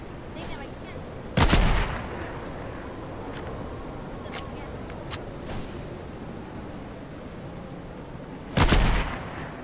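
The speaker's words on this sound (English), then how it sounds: "I think they're shooting at you in like a volley type of formation." Gunfire in a video game, with enemies shooting in volleys: two sharp loud shots about seven seconds apart stand out over faint background game noise and softer distant pops.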